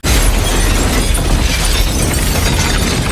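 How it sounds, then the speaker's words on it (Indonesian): A car bomb explodes in an action film scene, a loud, dense, sustained blast filling the whole three seconds with rumbling low end and shattering, crackling debris. "bom yang di mobil Chen meledak"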